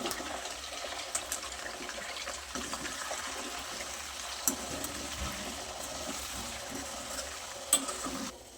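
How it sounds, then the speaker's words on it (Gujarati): Chunks of yam and sweet potato fry in oil for Surti undhiyu, a soft, low bubbling sizzle with occasional small clicks and stirring sounds, quiet and continuous. "હવે આપણે એ તેલમાં રતાળું અને શક્કરિયાને પણ ફ્રાય કરી લઈશું।"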